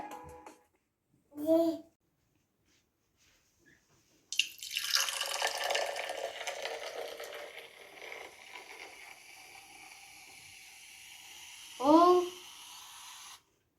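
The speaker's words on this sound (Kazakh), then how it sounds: "Ағын су." Tap water runs steadily for about nine seconds in a home sink. Brief children's voices come before and after it.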